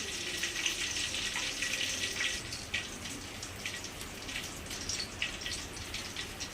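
A Lays-coated chicken leg frying in hot oil over a medium flame gives a steady, fairly quiet hiss with scattered small crackles and pops throughout.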